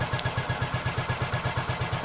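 A 1961 Heinkel Tourist 103A2 scooter engine idles smoothly and steadily just after the choke is switched off, with a fast, even putter that holds constant and close throughout, no revving.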